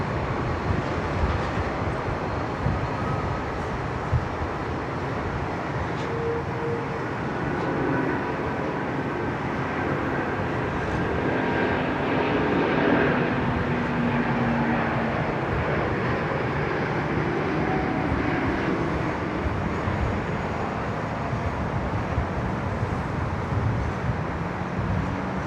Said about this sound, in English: Beautiful departure there from Cathay